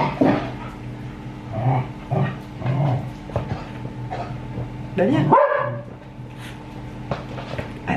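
Dogs barking indoors in a house, several short yips and barks scattered through the stretch, close and fairly loud, mixed with a person speaking over them.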